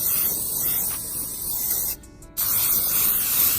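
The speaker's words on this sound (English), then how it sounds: "But let's just spray it on it." Aerosol plastic restorer hisses onto the exterior trim of a Renault Clio RS 197 in two long close bursts, broken by a short pause before spraying resumes.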